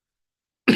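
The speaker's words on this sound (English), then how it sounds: "Sorry about my coughing." One short cough bursts out after a stretch of silence, close and fairly loud.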